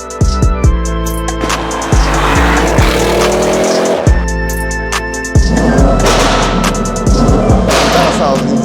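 Audi RS6 fitted with new stainless steel downpipes, revving hard under boost on a dyno ramp: a loud, close engine roar that climbs and drops in repeated pulls, with sharp pops and chirps between them.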